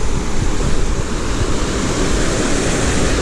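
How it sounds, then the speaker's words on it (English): Red Creek rushing through its valley in Dolly Sods, a steady broadband wash of flowing water that stays loud and unbroken throughout, with no voices. "So we got the creek"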